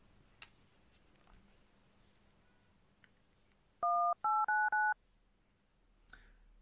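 A few faint clicks and then a telephone keypad dialed: four clean, evenly spaced two-tone beeps, close and bright, in an otherwise quiet room.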